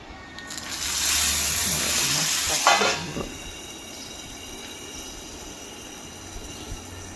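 A hot cumin and mustard seed tempering is poured into boondi raita, giving a loud hissing sizzle for about two seconds that dies down to a faint, quiet crackle.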